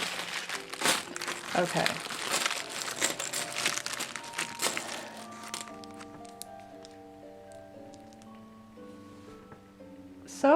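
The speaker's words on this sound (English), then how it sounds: "So we will have to just rip this bag." A plastic bag of LEGO parts is ripped open with loud crinkling and tearing over the first several seconds, followed by lighter rustling and a brief sharp crinkle at the end, with a voice speaking briefly.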